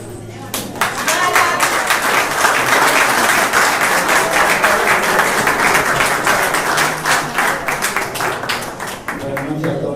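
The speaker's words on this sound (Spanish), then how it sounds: "Bueno, un aplauso." An audience at the inaugural council session in a hall gives loud, sustained applause, with dense clapping swelling after a quiet start and continuing to the end.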